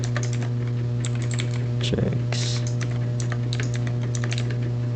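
Rapid, uneven clatter of keys on a computer keyboard, fairly close, over a steady electrical hum, with a brief spoken word partway through.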